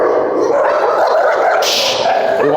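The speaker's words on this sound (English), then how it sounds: "So even if a dog barks at him first" A dog barks and growls in a rough, continuous burst at close range during a group obedience training seminar in New Jersey, loud and without talk.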